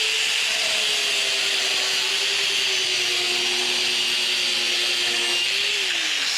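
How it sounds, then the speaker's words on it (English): A DualTools CS300 dual saw cuts through hardwood flooring with a continuous loud, steady whining drone and a sustained tonal hum that shifts slightly in pitch over several seconds. "I want you to see how easily the dual saw is going to go through this."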